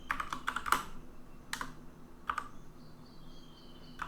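Typing on a computer keyboard, a quiet cluster of rapid key clicks at the start followed by two brief later bursts, close and clear with faint background hiss.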